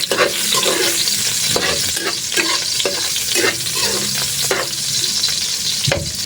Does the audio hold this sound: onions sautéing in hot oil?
yes